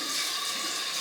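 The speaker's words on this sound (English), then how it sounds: "Cold water rinse." A bathroom tap runs steadily for a cold water rinse after shaving, a continuous close hiss of flowing water with no talk over it.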